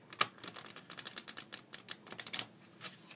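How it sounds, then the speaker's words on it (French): A deck of playing cards is shuffled during a close-up magic trick, a rapid run of light, crisp card clicks and riffles at close range, with no talk. "Donc je vais mélanger le paquet."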